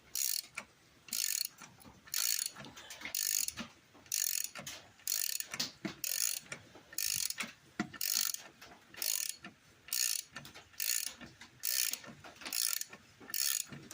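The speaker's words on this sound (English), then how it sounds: "I want to take all the bolts off the bottom first and then take the last bolt off the top" Hand ratchet loosening the bottom bolts on a four wheeler during a diesel engine swap, giving rapid metallic clicking in regular bursts roughly every half second to second, close and alone with no talk.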